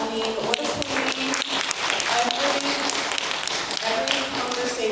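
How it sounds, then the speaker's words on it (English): An audience at a mental health and well-being talk claps, a dense patter of many hands that runs steadily for several seconds, with faint voices underneath. "a big round of applause for Jordan."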